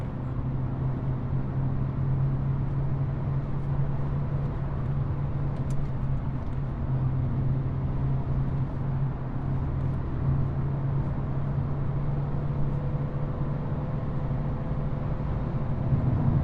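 A Mercedes A180 with a 1.5 dCi 109 hp Renault-built diesel engine climbs a hill at speed. The engine and road noise make a steady, even drone with no talking throughout.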